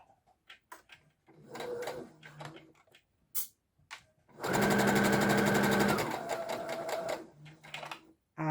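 A sewing machine stitches a hood seam with a hump jumper under the foot: short bursts of rapid mechanical whirring build to a sustained loud run in the middle, then stop and start again, close by.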